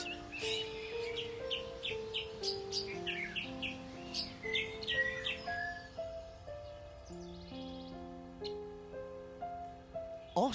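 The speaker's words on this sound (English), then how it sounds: "Bird. It's a bird." Bright, repeated bird chirps and tweets ring out in quick clusters over a soft backdrop of sustained musical tones, the calls thinning after the first half.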